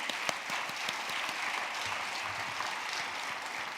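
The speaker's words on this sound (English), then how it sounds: "Let's give them an applause." Applause for a panel at an international conference on Duchenne and Becker muscular dystrophy: steady, moderately distant clapping from a seated audience, evenly sustained throughout.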